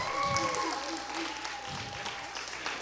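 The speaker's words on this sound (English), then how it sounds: "Give him a round of applause." Applause rises from a live studio audience at a gaming show, a dense wash of clapping that is moderately loud and steady, with voices mixed underneath.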